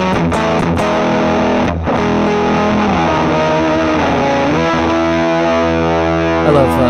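An electric guitar run through a fuzz effect in Ableton Live plays loud, saturated chords and sustained notes, thick with distortion and heard close and alone.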